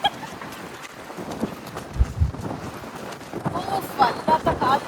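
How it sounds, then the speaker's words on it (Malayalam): Strong gusty wind during rain on a Dubai street buffets the microphone in uneven rushes, with a low thump near the middle and a person talking faintly underneath. "വല്ലാത്ത കാറ്റ്"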